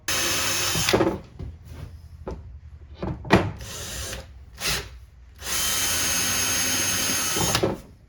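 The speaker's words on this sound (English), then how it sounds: "So now that we have everything pre-drilled" Power drill pre-drilling screw holes while installing a Rev-A-Shelf RV-18PB-2 pull-out trash can in a kitchen cabinet: several short whirring bursts, then a long steady run of drilling, close and loud with no talking.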